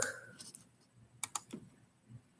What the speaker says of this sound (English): So let me type up workbook.